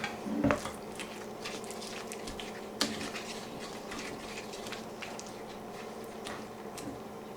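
Fondant for Easter eggs being mixed in a bowl: soft squishy scraping and a few light clinks of a utensil against the dish, with one sharper knock near the start and another a few seconds later, steady and close.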